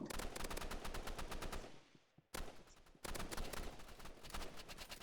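Rapid bursts of automatic gunfire in the Roblox game Rivals crackle nearly nonstop, with a brief lull before the shooting resumes just as loud and dense.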